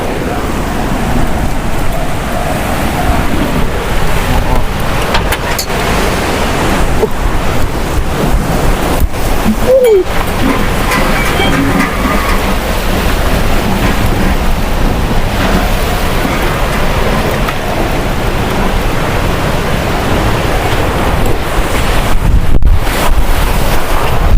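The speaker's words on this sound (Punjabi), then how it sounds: "ਮੌਸਮ ਟੋਟਲੀ ਚੇਂਜ ਤੂਫਾਨ ਆ ਗਿਆ" A storm in Punjab whips strong wind across the microphone, a loud, unbroken roar and rumble with gusty surges, carrying dust, close and constant for the whole stretch.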